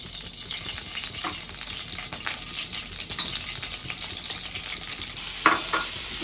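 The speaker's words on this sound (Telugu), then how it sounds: "ముందుగా మనం కట్ చేసుకున్న పన్నీర్ని కొంచెం ఆయిల్లో ఇలా ఇటు అటు వేడి చేసుకోవాలి." Cut paneer pieces fry in oil in a pan with a steady, moderate sizzle, broken by brief scrapes and clinks as they are turned back and forth.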